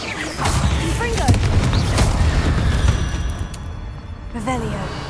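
Confringo explosive spell blasts in Hogwarts Legacy, a series of booming magical bursts and crackling impacts over game effects, with short synthetic whooshing tones near the end.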